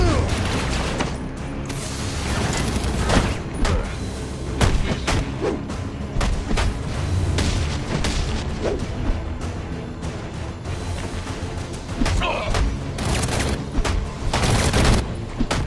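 Gunfire in the Batman Arkham Origins video game on Xbox 360 rattles out as dense, repeated bursts of shots and booms, loud and continuous with several sharp peaks.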